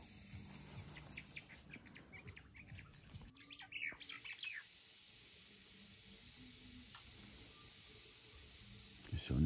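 Small birds chirp and tweet outdoors on a sunny morning, quick bright calls scattered over the first few seconds beneath a person talking, then a steady hiss of background ambience.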